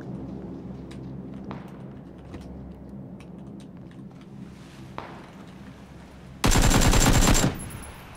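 Gunfire in the battle royale game PUBG: Battlegrounds sounds as a few distant shots over steady low background noise, then a loud close burst of automatic fire near the end.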